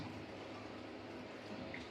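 Water being poured into a glass, a steady soft trickling wash that runs without a break, faint and fairly close.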